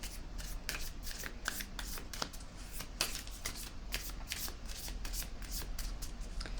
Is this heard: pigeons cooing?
no